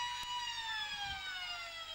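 Football ground siren at a country match between North Geelong and Anakie, sounding the end of the quarter as one long sustained wail that slowly falls in pitch, steady and fairly loud, with faint crowd noise underneath.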